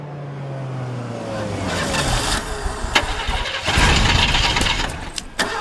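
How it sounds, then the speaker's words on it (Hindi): A car engine cranks with a starter whir, turns over unevenly and fails to catch, ending in sharp clicks and knocks, close and fairly loud. There are no voices during the attempt. "गाड़ी चालू नहीं हो रही सर।"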